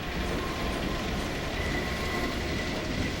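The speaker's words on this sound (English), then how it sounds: "There goes the Wraither train." A train rolls past in the Half-Life 2 game, a steady, loud rumble with clattering wheels and a faint metallic squeal, continuous and close throughout.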